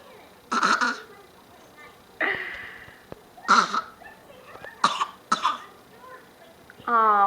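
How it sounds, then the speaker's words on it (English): A baby girl coughs in several short, separate bursts, close and fairly loud, with soft gaps between them and a voice talking at the end. "You got a cough?"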